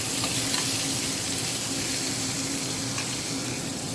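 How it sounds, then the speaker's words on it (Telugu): Peanuts deep-frying in oil in a pan give a steady, loud, dense sizzle that crackles without pause from start to finish, with no voices over it. "ఈరోజు మరి మన పచ్చడి నూనె వేసి పల్లీలు వేయించిన"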